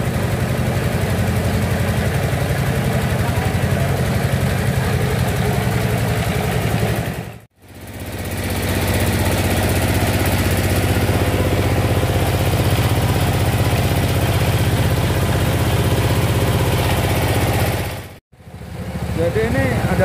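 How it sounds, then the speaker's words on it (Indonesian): A motor pumping water at a clean-water well drilling site runs with a loud, steady droning hum, cutting out briefly twice before resuming at the same level. "Jadi ini adalah motor untuk menyedot air."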